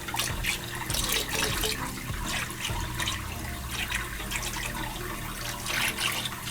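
Salt part A, the alkalinity component of an ESV salt kit, being mixed into about 1000 gallons of water: continuous rushing, churning water with splashy surges and a low rumble, loud and close, no speech.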